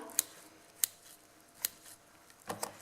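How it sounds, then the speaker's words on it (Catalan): Small scissors snip around a sheep's eye during a dissection, giving four or five quiet, sharp clicks spaced apart over a soft background hiss. "anar posant la punta de les tisores per el borde de l'ull i anar retallant amb una mica de paciència"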